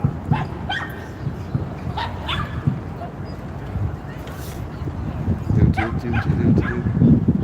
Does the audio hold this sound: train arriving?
no